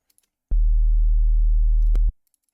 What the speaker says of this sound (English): And now it's just a sine wave.